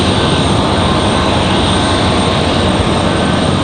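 An American Eagle Airbus A321 jet departs Raleigh-Durham International, a loud, steady engine roar that holds at full strength throughout with no talk.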